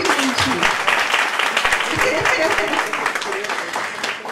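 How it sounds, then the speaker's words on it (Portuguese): Audience at an academic health event applauding as a panel guest is introduced, steady clapping that continues under a speaker's voice. "Aplausos para ela,"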